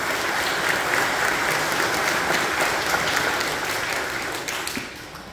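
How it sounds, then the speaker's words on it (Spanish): Congregation applauding during a Sunday Catholic Mass, a steady wash of many hands clapping, moderately loud and continuous before easing slightly at the end. "Les damos un aplauso"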